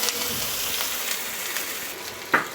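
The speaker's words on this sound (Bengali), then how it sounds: "একটুখানি সময় আলুটা ভাজতে হবে।" Cut potatoes frying in a pan for a drumstick (sajna) dish, a steady soft sizzle throughout with one brief louder crackle near the end, no talking.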